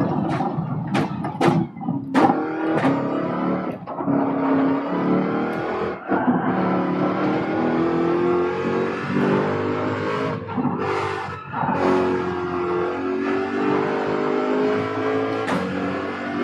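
A Corvette race car in Gran Turismo 7 on the Barcelona circuit roars loudly and continuously, its engine note climbing and dropping through repeated gear shifts, with sharp transient blips between changes and no talking.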